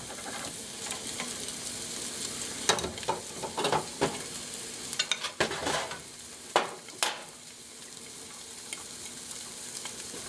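Eggs frying in a pan for a breakfast bowl, a quiet steady sizzle punctuated by a cluster of spatula clicks and scrapes against the pan as they are flipped over, then the sizzle continuing alone.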